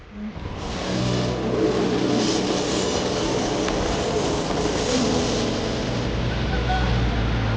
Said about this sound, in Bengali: শেষমেশ একটা ট্রেনে বসতে পারছে আমাদের পার্টি।